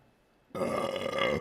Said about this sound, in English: Ooh, a burp too.